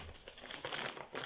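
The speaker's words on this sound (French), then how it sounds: "Il y a le papier bulle. En fait, ils ont mis le livre. Ils ont mis le livre dans le papier bulle." A book packed in bubble wrap is unwrapped at close range, giving continuous crinkling and rustling of the plastic with a few louder crunches, no voices over it.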